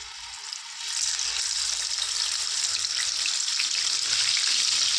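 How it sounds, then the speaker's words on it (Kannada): Pieces of masala-coated fish slide one by one into hot oil over a medium flame, setting off a sudden loud sizzle that holds steady and close, with no speech over it. "ಇವಾಗ ಫಿಶ್ನ ಒಂದೊಂದಾಗೆ ಹಾಕ್ಕೊಂಡು ಬಿಡೋಣ ಮೀಡಿಯಮ್ ಫ್ಲೇಮ್ ಇಟ್ಕೊಂಡ್ಬಿಟ್ಟು ಚೆನ್ನಾಗಿ ಫ್ರೈ ಮಾಡ್ಕೋಬೇಕು"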